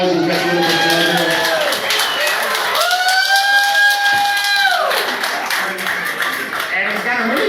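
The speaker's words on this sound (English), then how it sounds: "Let's give them a round of applause." A crowd at a golf outing applauds and cheers steadily, and a sustained voice or whoop rises over the clapping midway through.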